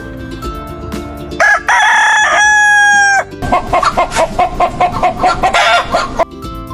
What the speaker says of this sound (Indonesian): Suara ayam seperti apa ya teman-teman?